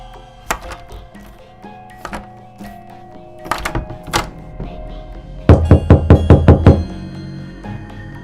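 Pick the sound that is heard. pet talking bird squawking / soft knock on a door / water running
soft knock on a door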